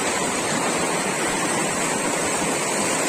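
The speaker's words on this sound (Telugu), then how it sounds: "అక్కడ వాటర్ ఫ్లో అవుతుంది" Continuous rushing water, dense and steady like a fast stream or small cascade, close and fairly loud with no other sounds.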